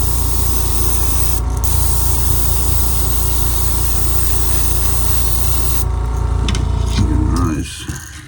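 White base coat spray painted onto a crankbait, a loud steady hiss of spray held continuously for several seconds before cutting off near the end.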